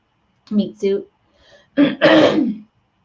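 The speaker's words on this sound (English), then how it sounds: "Sorry for all my coughing and clearing of my throat" Two short coughs followed by a faint pause, then a loud, drawn-out throat clearing, close and isolated with no speech.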